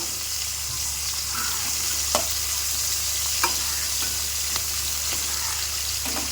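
Food sizzling steadily in a new, thin, non-stick wok on its first use, a continuous hiss broken by a few sharp scrapes and taps of the spatula as it is stirred, with no talking.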